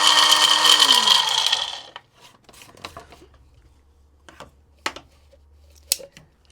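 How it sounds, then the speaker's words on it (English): An electric spice grinder whirs loudly through chai spices for under two seconds, then spins down and stops, followed by faint clicks and rattling. "So I'm going to grind it a little bit more."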